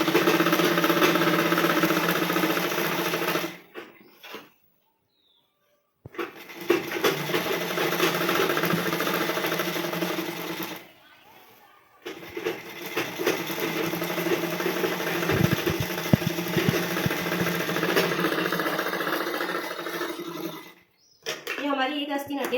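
A sewing machine runs in long, steady stitching bursts while double-stitching the sleeve of a blouse, stopping briefly a few times between runs, with a person talking over the whirring motor.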